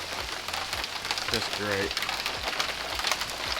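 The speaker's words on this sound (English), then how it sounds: "Got a bunch of hail. But wow, there's just a lot." Hail falls outside, a dense rattling patter with sharp individual impacts, steady and fairly close, while someone speaks briefly over it.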